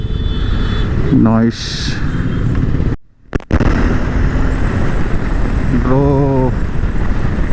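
A 2025 KTM 390 motorcycle ridden on an open road, engine loud and close with rising throttle revs, a sharp gap mid-ride, wind rush throughout and a rider speaking briefly over it.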